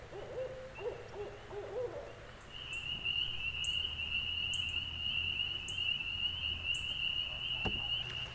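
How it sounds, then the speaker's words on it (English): An owl hoots repeatedly in a steady series of short calls from across a lake at evening, the hoots carrying clearly over a constant insect drone and faint low background hum. "I just called this owl across the lake. He flew over to there. He's hooting like crazy."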